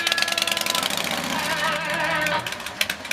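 A motorcycle engine running on a Flemington Yamaha-Kawasaki mobile dyno at an outdoor pig roast event, droning steadily and loud at close range with a pulsing, rough mechanical tone and faint voices around it.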